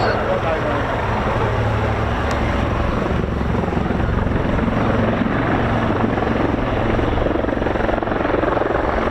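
A helicopter roars steadily and loudly nearby, its deep rotor thrum and engine whine continuous throughout.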